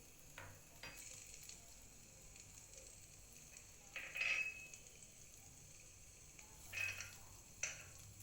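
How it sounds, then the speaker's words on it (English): Chopped garlic and ginger sizzle in hot sesame oil with a faint, steady hiss, broken by a few brief stirring scrapes. No one speaks. "When the oil is hot enough, start adding the chopped garlic and the chopped ginger."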